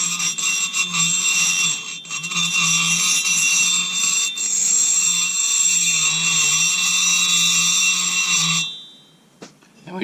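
A rotary grinder works the ports of a Husqvarna 272 chainsaw cylinder, a close, high, whining buzz that holds steady with slight pitch wavers before cutting off near the end, over a faint low hum.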